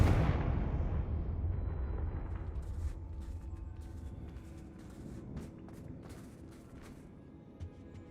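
A Confringo spell explodes in Hogwarts Legacy with a loud blast that opens into a long rumbling decay, followed by faint crackles and light debris ticks.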